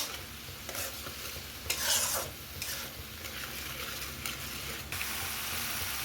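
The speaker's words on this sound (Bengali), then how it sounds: "মশলাটা ভালো করে কষিয়ে নিতে হবে।" Spice masala being stir-fried for soybean kofta curry, a steady close sizzle with scraping and rubbing stirs as the paste is worked in the pan, swelling in brief louder bursts, no voices.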